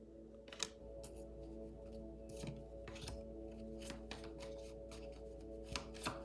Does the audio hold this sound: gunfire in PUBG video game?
no